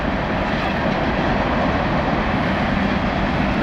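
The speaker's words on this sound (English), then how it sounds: "But this was a short train." A short train rumbles past in California's Central Valley as a loud, continuous broadband roar that holds steady throughout, with no voices.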